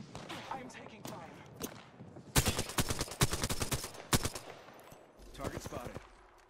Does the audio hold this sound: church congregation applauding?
no